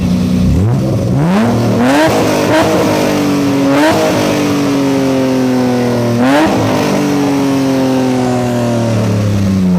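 A BMW M3 E30 engine revs hard several times while stationary, rising in pitch with each throttle blip, then falls back to a loud, rumbling idle.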